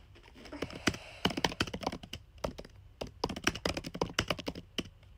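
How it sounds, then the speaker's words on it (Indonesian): Rapid, uneven clatter of keys on a computer keyboard during a late-night live stream, close and crisp, with bursts of typing separated by brief pauses and no talking. "aku sedang mengetik"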